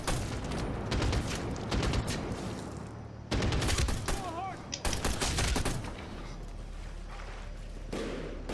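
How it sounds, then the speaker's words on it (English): Loud, dense gunfire from a scoped weapon in the video game Medal of Honor Warfighter cracks in rapid bursts, layered with battle noise and a few faint game voices. "Now I will switch to the scope gun to take this guy out."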